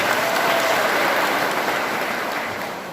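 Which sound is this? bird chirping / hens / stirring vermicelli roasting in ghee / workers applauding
workers applauding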